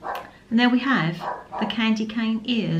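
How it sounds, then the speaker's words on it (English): A dog barks repeatedly in the background, its yips and barks mixing with a person talking steadily close by. "if you can hear him barking in the background"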